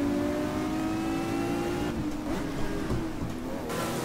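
Race car engine in GT Legends revving steadily with a clear droning whine, dipping briefly through a gear change before climbing again, loud and close with no talk.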